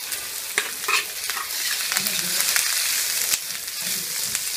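Two medium onions, chopped, fry in hot oil in a pan with a close, steady sizzle, while a utensil scrapes and stirs them with irregular clicks and bumps.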